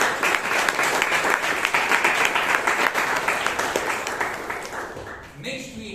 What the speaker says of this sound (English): give both of them a big round of applause